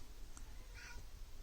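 A single short cat meow, soft and somewhat distant, over a quiet room background.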